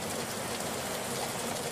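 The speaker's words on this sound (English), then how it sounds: "Our rain dance is working." Steady rain falls in a broad, even hiss that holds at the same level throughout, with no voices and no separate drops standing out.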